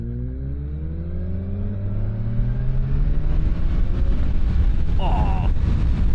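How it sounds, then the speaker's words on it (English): Kawasaki Ninja 1100SX revving up, its engine tone climbing steadily, then a brief crackle of exhaust pops near the end, outdoors with some wind noise and a voice faintly in the background. "that exhaust is popping as like fireworks."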